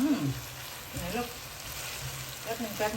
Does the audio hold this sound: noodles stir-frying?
yes